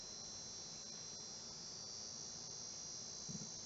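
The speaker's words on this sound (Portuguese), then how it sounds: "Isso é cigarra." A cicada sings a steady, unbroken high-pitched buzzing drone, faint and distant, continuing evenly throughout with no voices.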